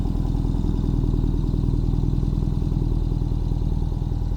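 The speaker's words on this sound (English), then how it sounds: "Let's get the bike started" A 2021 Ural Gear Up Heritage Hunter sidecar motorcycle engine idling up close, a steady low thumping rhythm with mechanical clatter, loud and even with no talk.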